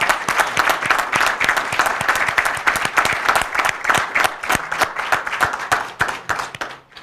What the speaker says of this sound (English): So let's all give Hector a round of applause.